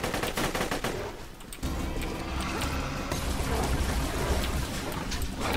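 Gunfire in the video game Borderlands 2, rapid repeated shots in a fast crackling stream, loud and dense, easing briefly before resuming amid game noise.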